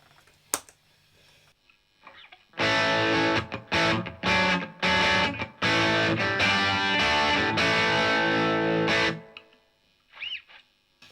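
Loud, heavily distorted electric guitar chords through a Marshall DSL 15C valve amp with gain barely up and delay off, a harsh, fizzy top end, played in several bursts before fading out.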